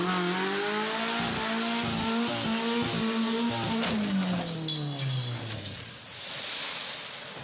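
A car drives with engine and tire noise, then a long descending whine as it plunges into water in Nova Scotia, followed by splashing and churning water; no voices.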